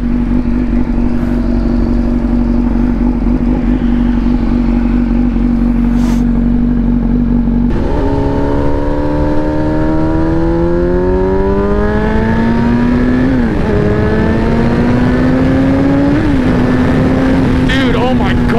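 A 2007 Honda CBR 1000RR sport bike idles with a steady low drone, then accelerates hard, its loud engine pitch climbing through several gear changes, close by, with a voice talking over it.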